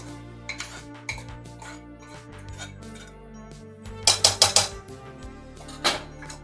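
Cooked rice being mixed in a pot for narali bhaat, with scattered sharp clinks of a spoon against the metal pot, including a quick cluster of louder knocks, over quiet background.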